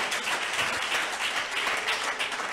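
A church congregation breaks into applause for Jesus, a steady wash of many hands clapping together with a faint voice under it.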